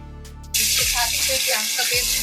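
Ginger garlic paste hits hot oil with fenugreek seeds, and a sudden loud, broad sizzle starts up close and keeps going. A voice speaks over the frying, and there is a tonal hum just before the paste goes in.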